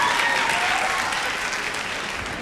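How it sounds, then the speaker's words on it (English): Audience applause for a university concert band on an outreach tour fills the room, a dense, steady wash of clapping that holds strong throughout and eases only slightly toward the end. "Let's give it another round of applause."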